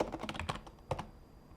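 A computer keyboard clicks under quick fingers, a rapid close run of light key taps for about a second before trailing off into quiet.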